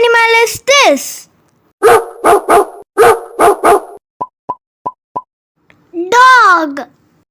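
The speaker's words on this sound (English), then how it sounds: "Dog!" A dog barks loudly in several short bursts, groups of three, between other animal-like calls and a few small plopping sounds.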